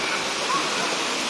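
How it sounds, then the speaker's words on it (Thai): Rushing water of Sai Yok Noi waterfall in Kanchanaburi, Thailand, a steady, dense broadband roar that holds even and unbroken throughout, close and fairly loud. "นี่เป็นน้ำตกไซโยกน้อยนะ"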